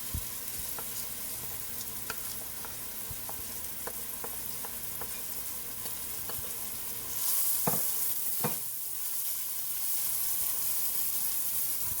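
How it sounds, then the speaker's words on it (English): Red onion frying in a pot of spiced oil for pilau hisses steadily and quietly, punctuated by light scrapes and taps of a stirring spoon, with the sizzle swelling louder midway as the pot is stirred, and no talking. "right now we can add the red onion."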